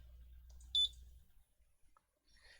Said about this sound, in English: You can hear one beep,